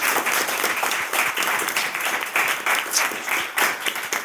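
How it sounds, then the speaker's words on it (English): Steady, fairly close applause from an audience at a student speaker-series talk, a dense run of clapping that continues evenly throughout without speech. "So if we can just all give Alex a big round of applause."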